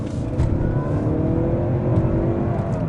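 A 2017 Lincoln MKZ 2.0T accelerates onto a highway, its engine rising smoothly in a low continuous drone with tire and road rumble heard from inside the cabin, no talking.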